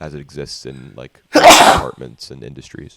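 One loud, sharp sneeze bursts out in the middle of ongoing conversation, with voices talking before and after it.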